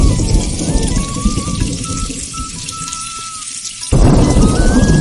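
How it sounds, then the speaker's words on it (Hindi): Heavy rain pours on a village in a Hindi cartoon story, a dense and loud steady roar with a thin whistling tone over it, swelling again sharply near the end. "अगले दिन मधुपुर गांव में जोरों से भारी वर्षा होने लगती है।"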